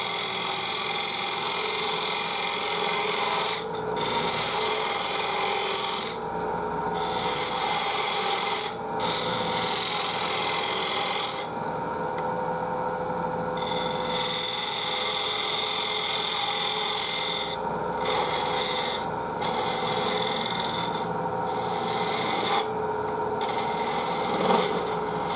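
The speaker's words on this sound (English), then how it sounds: "I'm going to use the parting tool to put a tenon on here so I can grab it with the chuck." Steel parting tool cutting a tenon into wood spinning on a lathe, a steady close rasping scrape that runs continuously, with brief dips and shifts in tone as the cut changes.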